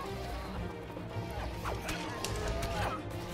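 A smashing attack lands in the card-based action game Hand of Fate, making a few sharp crunching hits and whooshes over game sound.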